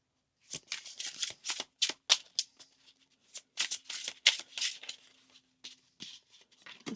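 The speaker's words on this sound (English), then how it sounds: "I wanted to pull a couple tarot cards and then get into these oracle cards." Tarot cards being shuffled by hand, a close, crisp series of riffling bursts and soft slaps in an irregular rhythm, alone in a quiet room.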